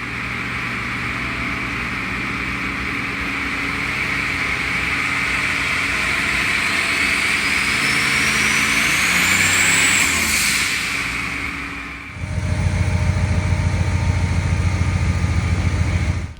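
Turbocharged 8.1L big block V8 runs steadily on a dyno, a loud sustained drone with a whine sweeping upward as it builds, then a sudden drop and a deeper, heavier rumble resuming at idle-like speed.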